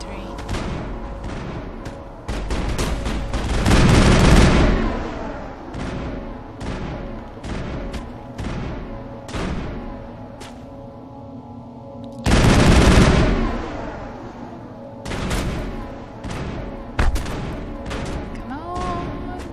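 Gunfire in the PC game Mass Effect: bursts of rapid shots and sharp cracks in clusters, with two louder heavy blasts, loud and close, while a person talks over parts of it.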